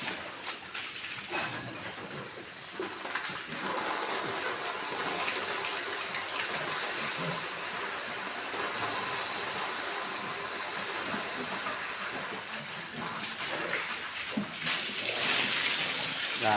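Water hoses down a sow pen on a pig farm, a continuous broadband gush and splatter lasting the whole stretch, fairly loud and close, with occasional voices in the background.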